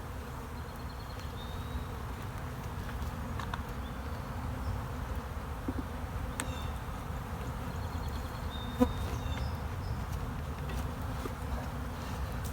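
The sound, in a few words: honey bees buzzing in an open hive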